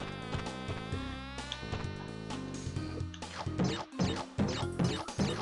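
Buzzing bees in the video game Crash Bandicoot 2 drone steadily under layered game music and sound effects, with louder impact hits toward the end.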